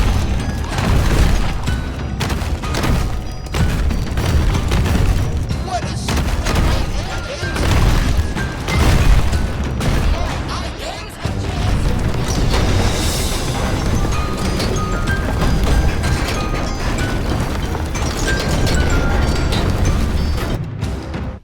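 Big Top, a monster in the game Secret of the Mimic, smashes through buildings with loud, continuous crashing, booming impacts and collapsing debris that run the whole stretch at close range, with a brief dip midway.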